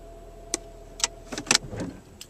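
A car with worn motor mounts runs in the morning, giving a low steady hum broken by several sharp clicks and knocks.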